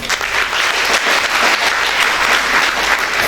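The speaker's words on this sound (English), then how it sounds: "Let us give a huge round of applause for Mr. Manas Mehra from Science." A dense burst of clapping from a school audience, loud and sustained throughout with no pause or voices.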